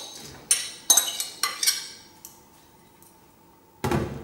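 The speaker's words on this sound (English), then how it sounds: "first I'm going to add the fennel to our mixing bowl." Fennel tossed into a mixing bowl for a fennel orange salad, giving several sharp clinks and clatters spaced a fraction of a second apart, then a final louder rustling clatter near the end, close and clear with no talking.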